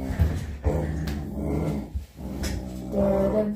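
A service dog growls in a low, rumbling stretch that rises and falls, with short whimpering breaks, heard close and alone.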